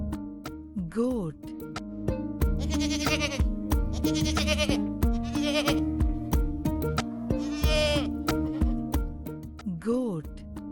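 A goat bleats several times, wavering cries standing out over a busy, bouncy backing of music with rhythmic percussion.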